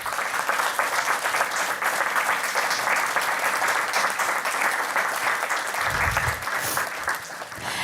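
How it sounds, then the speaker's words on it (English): An audience at a school board meeting claps steadily through a round of applause for honored students, the dense clapping holding level the whole time, with a brief low thump near the end. "Let's please give them all a round of applause"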